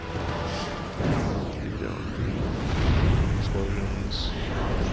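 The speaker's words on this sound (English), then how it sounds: "Explosions." Explosions go off in the video game Dark Souls II DLC, a series of deep, rumbling booms and blasts layered over one another across several seconds, fairly loud with shifting intensity.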